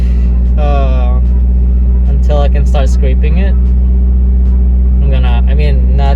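A car engine idles steadily on a snowy morning to warm up and defrost, a loud constant low hum running beneath a person talking nearby.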